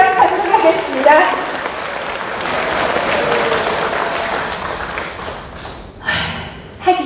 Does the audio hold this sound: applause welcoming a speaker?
yes